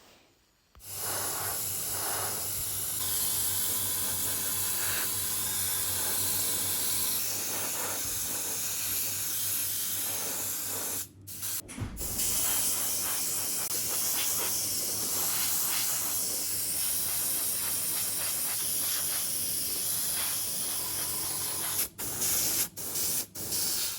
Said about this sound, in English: the noise in the background is the compressor